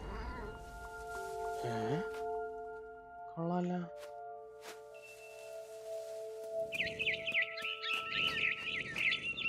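Bright barn swallow chirps ring out near the end in the game What Remains of Edith Finch, amid tonal game music and scattered synthetic effects, with occasional cat mewing sounds earlier.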